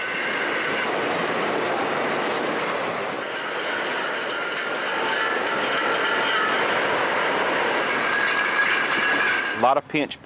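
Noisy machinery clatters through a whisky bottling plant, glass rattling and motors droning in a dense, continuous roar that holds steady throughout, with a sharper clunk near the end.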